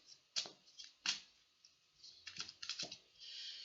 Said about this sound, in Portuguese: Os baralhos já estavam embaralhados, mas fiz de novo para ficar bem misturadinho